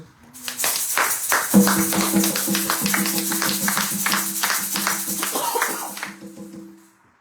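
A church congregation at a Sunday service applauds in a dense, steady burst of clapping lasting several seconds, with sustained keyboard notes held underneath.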